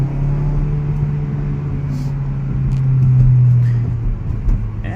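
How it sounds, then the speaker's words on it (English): A 2016 Mazda CX-3 with its Skyactiv gasoline engine hums steadily under acceleration, a low droning induction note rising slightly in pitch midway, heard from inside the cabin with faint road noise. "I think it sounds nice. It's got some induction noise."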